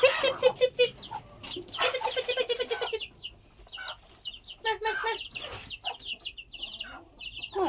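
Chickens cluck repeatedly inside a chicken coop, a busy run of close, overlapping calls with short pauses between bursts.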